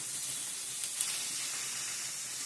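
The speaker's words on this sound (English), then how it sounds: "these pieces started sizzling almost immediately" Food pieces sizzle in a very hot pan, a steady bright hiss that holds throughout with a brief louder crackle partway, no voices over it.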